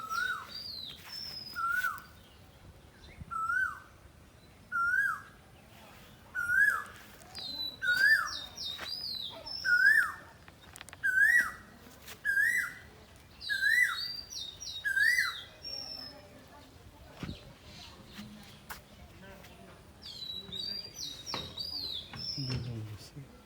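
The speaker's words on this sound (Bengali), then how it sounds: "পাখির ডাক, কোকিলের ডাক," A cuckoo calls in a village garden in the morning, about a dozen rising whistled notes repeated at a steady pace and growing louder, while smaller birds chirp higher up and fainter in the background.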